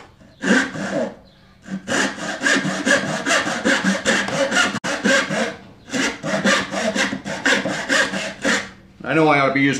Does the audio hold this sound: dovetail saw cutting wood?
yes